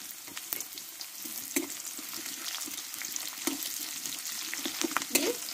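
Chopped onion, garlic and green chillies fry with potato in oil. A steady sizzle is broken by repeated scraping stirs of the spatula at close range.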